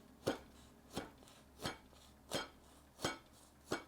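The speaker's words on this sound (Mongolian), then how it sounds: "Нэг хэрчгтээ гэрийнхээ хамгийн эртний хутгаар хэрчих ёстой" An old kitchen knife chops through food on a board in six evenly spaced sharp thuds, close and clear against a quiet background.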